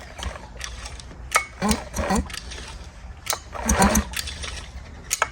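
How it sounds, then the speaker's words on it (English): Recoil pull cord on a 1950s Scott Atwater outboard motor, drawn in a few smooth pulls, giving ratcheting mechanical whirs and clatter that rise and fall in several bursts, close up with no talking. "I'm going to give her a couple smooth pulls to let the WD-40 go in the cylinders."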